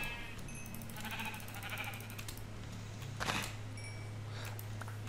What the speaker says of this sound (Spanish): Mi oveja de mierda.